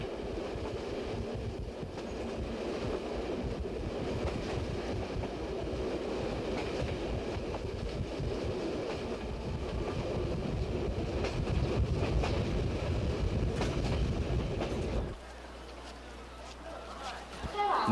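A train travels a long-distance railway journey across China toward Xi'an, heard as a steady, loud rumble with rhythmic clatter that continues for most of the stretch, then drops abruptly to a quieter hum near the end.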